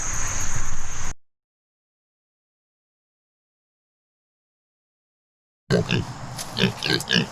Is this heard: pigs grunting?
yes